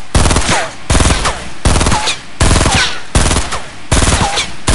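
Rapid automatic gunfire in the Fortnite video game, loud and close, coming in repeated bursts of about a second each with short gaps between them.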